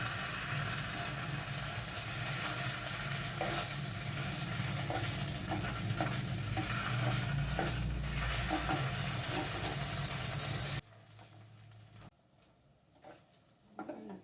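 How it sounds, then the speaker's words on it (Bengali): Chhana (cottage cheese) balls fry in hot refined oil in a karahi, a loud, dense sizzle with bubbling and stirring scrapes that runs steadily, then cuts to quieter faint kitchen sounds near the end. "গরম তেলে আমি ছানার বলগুলো ছেড়ে দিচ্ছি।"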